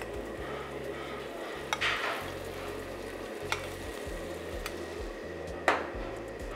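Chilli paste sizzling and frying in a pan while making Dragon Chicken. A steady sizzle runs throughout, and a few sharp clinks of the stirring utensil against the pan break through it.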